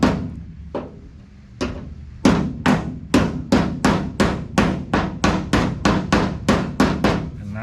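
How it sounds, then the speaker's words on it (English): Hammer tapping on a welded panel of a 1969 Dodge Charger car body, with a few spaced blows followed by a steady run of close, loud, ringing metallic taps at a regular rhythm; no talking. "So I've just been kind of tapping up in here and just kind of moving"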